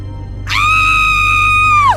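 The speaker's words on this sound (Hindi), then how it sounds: "उसकी चीख निकल गई।" A woman screams in fright in the shower in an animated horror story, one sustained high-pitched shriek lasting about a second and a half, loud and alone over a low background hum.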